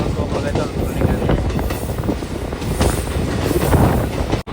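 Venkatadri Express intercity train pulling out of Chittoor station, a steady close rumble of rolling wagons and wheels on rails with faint squeal, continuous throughout with a brief cut near the end.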